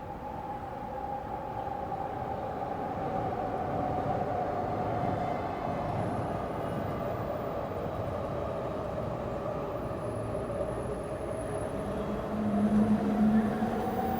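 Trains pass close by with a continuous rumbling roar and a rolling rattle that holds steady for the whole stretch, swelling slightly near the end, with no talk.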